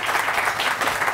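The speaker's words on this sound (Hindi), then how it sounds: "डॉक्टर खुरम के लिए तालियां हो ही जाए" A television studio audience on a morning show breaks into applause for a guest doctor, a thick continuous patter of many clapping hands lasting about a second.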